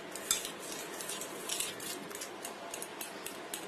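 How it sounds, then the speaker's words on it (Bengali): A fork mashes banana in a bowl for sweet banana fritter batter, giving soft squelching scrapes and light clinks of metal on dish throughout, close and steady with no talking. "কাঁটা চামচ দিয়ে ভালো করে চটকে নিতে হবে, যেন কোনো দানা না থাকে।"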